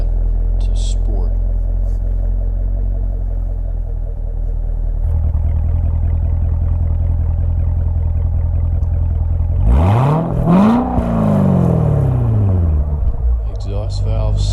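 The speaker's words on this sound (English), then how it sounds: "Exhaust valve set to sport." A 2019 Corvette Z06 Special Edition exhaust in sport valve mode idles with a heavy low burble that deepens midway, then one strong rev flares and drops back to a rumbling idle.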